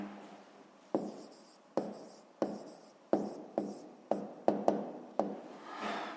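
A pen writes an answer on paper in a quiet room: about ten short, close scratching strokes that come in an uneven rhythm, each fading quickly. There is no talking.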